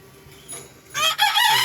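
Fayoumi chickens kept on a rooftop, clucking and crowing loudly up close in a quick burst of calls after a quiet moment.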